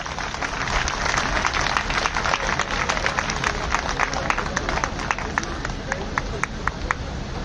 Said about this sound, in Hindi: एक बार जोरदार तालियां साथियों इनके लिए